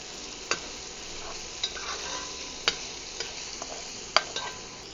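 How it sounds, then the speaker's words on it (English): Lean bacon browning in a soup pot, a continuous close sizzle broken by several sharp spoon clicks and scrapes against the pot, with no talking. "now that we got the bacon browned off a little bit"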